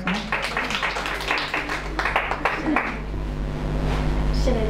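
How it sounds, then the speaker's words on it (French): An audience at a gathering breaks into scattered applause, a run of clustered claps in the first few seconds that thins out, with speech and a steady low hum underneath. "On peut l'applaudir d'abord."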